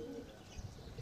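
A pet pigeon coos once or twice, faint and close, over low background noise.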